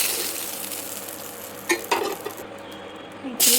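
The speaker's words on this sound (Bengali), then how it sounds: "মাছটা বেশি ভাজবো না, এখন হালকা ভেজে নেবো এটুকু।" Fish lightly frying in a pan, a steady hiss of oil with a few sharp clinks of a utensil against the pan toward the end, close and fairly loud, no talk.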